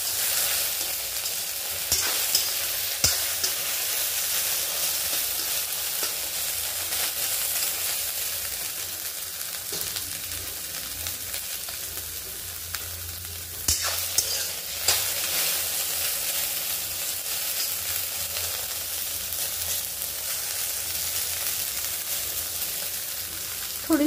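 Okra sautéing in a pan for masala bhendi, a steady loud sizzle and crackle with occasional scraping stirs, continuous and close.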